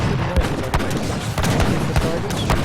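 Horse artillery guns in Age of Empires III firing in a busy battle, with repeated booming shots and rattling gunfire over dense, loud combat noise. Commentators talk over it.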